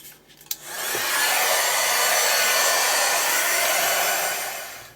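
A heat tool blows steadily to dry a mixed-media art journal page, rising to a loud, continuous close whoosh after a brief click on and holding level before easing slightly at the end.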